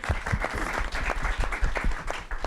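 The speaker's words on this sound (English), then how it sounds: "So could we also, one more time, please applaud for Beautiful Minds." An audience claps steadily at a panel discussion, a dense, even round of applause lasting a couple of seconds.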